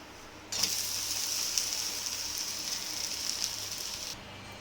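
A ragi and moong dosa sizzles loudly on a hot pan right after being flipped, a steady bright hiss that starts abruptly and holds for several seconds before dropping away.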